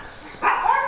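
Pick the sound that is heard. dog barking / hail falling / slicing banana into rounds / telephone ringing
dog barking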